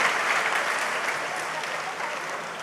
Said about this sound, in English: Let us all give these 3 volunteer leaders a big round of applause.